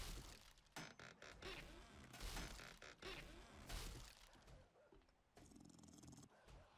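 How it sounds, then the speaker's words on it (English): A dog barks in a survival video game, sharp bursts scattered among thuds, crashes and game effects, fairly faint and somewhat distant, with a person talking over parts of it. "Yeah, I hear a dog."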